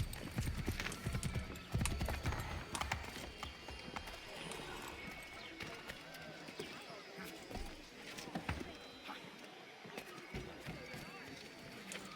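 Rapid clip-clop of horse hooves in Assassin's Creed III Remastered, running steadily through a busy mix of game effects, with people talking over it throughout.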